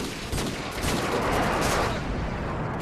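Rapid automatic fire from a Vector submachine gun in a first-person shooter match on the Estate map, a dense continuous burst of close, loud shots running the whole stretch with no speech over it.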